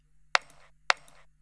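Two isolated kick drum sample hits roughly half a second apart, each a sharp punchy transient with a short bright decay, played back alone against a faint steady hum.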